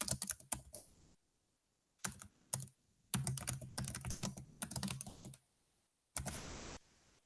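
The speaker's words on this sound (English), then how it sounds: "And then they can start typing in." Fingers tap on a computer keyboard in several short, close bursts of quick clicks, separated by silent gaps.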